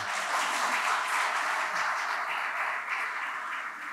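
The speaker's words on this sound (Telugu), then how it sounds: "చప్పట్లు కొట్టవచ్చు కదా కొంచెం" Sustained applause from an audience, many hands clapping steadily for several seconds.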